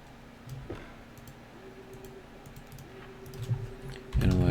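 Keys are tapped on a keyboard while text is written in the video game Stationeers. Sparse, irregular clicks play over a faint steady hum, and a loud, dense burst of sound cuts in at the very end.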